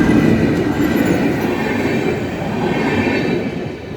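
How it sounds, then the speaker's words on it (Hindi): A short speed-trial train crosses new railway bridge number 41 between Raghopur and Lalitgram, giving a loud, continuous close rumble of wheels on the track that holds steady for several seconds and eases slightly at the end. "राघोपुर की तरफ से ये ट्रेन आ रही है और ललित ग्राम की तरफ जा रही है"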